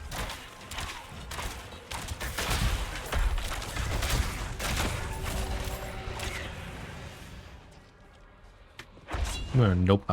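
Shadow explosions burst in Diablo IV gameplay: a dense run of heavy, booming blasts and crunching impacts, loud and continuous, ending in a sharp final cluster.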